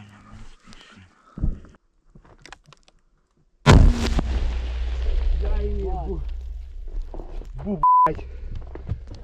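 A sudden loud mortar firing blast cuts through near silence, followed by a long rumbling roar with debris-like crackle and some distant voices underneath.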